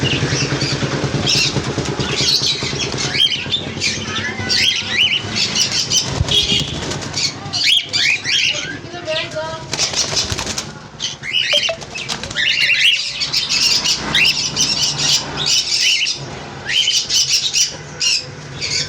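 Caged pet birds kept for sale, cockatiels and lovebirds, flutter their wings constantly and let out dense chirps and shrill calls. The noise is loud and busy, with a faint engine passing somewhere in the background.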